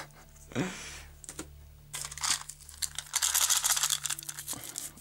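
Gift wrapping paper is torn open on a December present, with a sharp rip early on followed by a longer stretch of crinkling and rustling paper, close and fairly loud.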